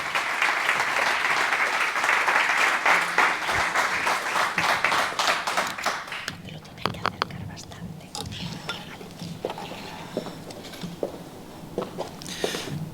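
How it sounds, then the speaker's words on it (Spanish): Warm applause from a seated audience at a talk on climate change, thick and sustained for about six seconds, then thinning into scattered claps and quiet room noise with a few murmured voices. "les pido, bueno, pues un cálido aplauso"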